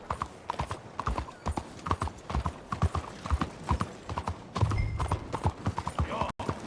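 A horse in Red Dead Redemption 2 trots in with rhythmic clip-clop hoofbeats, close and steady, under someone talking throughout.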